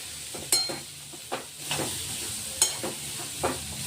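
Green chillies go into a pan of cooking chickpeas and get stirred, soft sizzling under several sharp spoon-against-pan clinks and scraping stirs, close and moderately quiet, with no one talking.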